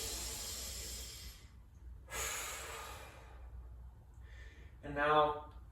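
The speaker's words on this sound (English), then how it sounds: "Just one or two more deep breaths here." Deep breathing held in a yoga pose: a long, drawn-out breath with a soft hiss, then a second breath, and finally a short, sharper exhale near the end, all close and fairly quiet.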